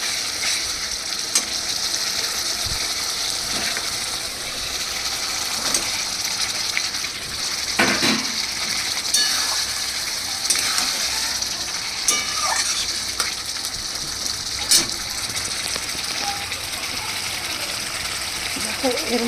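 Pointed gourd (potol) frying in oil, a continuous loud sizzle with scraping stirs and a few sharp clanks of a utensil against the pan.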